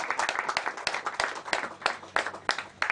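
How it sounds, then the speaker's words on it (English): An audience claps for President Yoweri Museveni in a series of sharp, uneven bursts of applause that carry on for a few seconds without talk. "But let us clap for the chief enabler"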